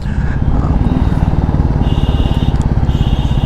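Royal Enfield Classic 350 motorcycle, a 2021 model, riding at speed on an open road, its engine giving a steady, loud, thumping drone with a fast regular pulse and no voices.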